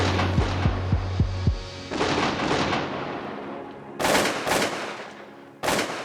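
Shotgun blasts on a Saskatchewan waterfowl hunt, a few heavy booms spread out after a short series of low thumps, loud and close, with no voices.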